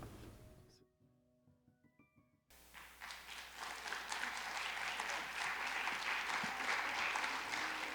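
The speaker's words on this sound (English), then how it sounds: "let's give those three films another round of applause" After a quiet moment with faint tones, applause from a film gala audience breaks out and builds into loud, sustained clapping that continues to the end.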